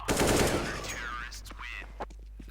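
Gunfire in a shooter video game, one rapid burst up front that quickly fades, followed by quieter scattered sounds and a small click near the end.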